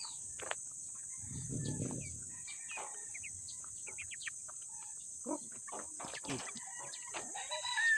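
Chickens cluck and chirp softly in short scattered bursts, with a steady insect-like hiss in the background and a brief low rustle early on.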